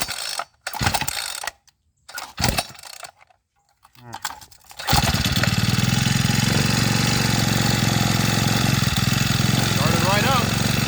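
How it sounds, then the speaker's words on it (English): A Senix 4-stroke 18-inch chainsaw is pull-started with a few rough rattling cord pulls, then the engine catches and settles into a loud, steady idle that runs on. "I'm going to pull the choke on, and then I'm going to try to start it"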